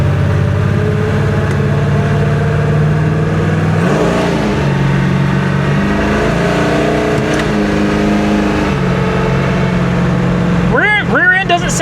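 A 1966 Chevrolet Impala with salt water in its differential accelerates, its steady mid-pitched engine drone rising and falling through a quick shift, then a rising whine near the end.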